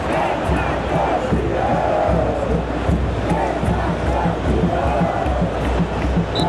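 A large football stadium crowd at a World Cup match between Argentina and Brazil roars in a steady, dense wash of cheering and shouting, loud and continuous throughout with no single voice standing out.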